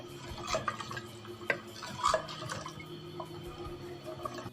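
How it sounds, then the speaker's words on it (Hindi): Water from three glasses poured into a clay pot of mutton, a splashy watery rush with a few sharper splashes and clinks, fairly close. "ये गया जी 3 गिलास पानी।"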